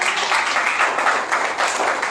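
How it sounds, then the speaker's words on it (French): A church congregation applauds, a thick, continuous roar of many hands clapping at once, fairly close and loud, staying level without pause. "Est-ce qu'on applaudit le Seigneur pour cela?"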